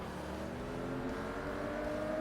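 A Porsche Boxster in the Forza Motorsport racing game revs its engine, a steady, moderately loud buzzing drone with rising harmonic pitch over about two seconds, alone without talk.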